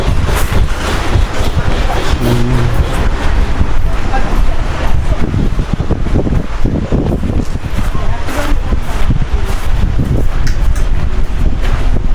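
Strong wind gusts steadily across open rice paddy fields at Sekinchan, roaring loudly into the microphone throughout, with faint voices briefly audible beneath the buffeting noise.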